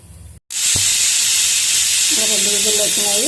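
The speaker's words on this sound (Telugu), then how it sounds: "రెండు విజిల్లు పెడితే సరిపోతుంది విజిల్ వచ్చింది" A pressure cooker cooking rice on a stove lets out a loud, continuous whistle of escaping steam. The hiss starts abruptly after a short gap and holds steady, and a voice speaks briefly over it near the end.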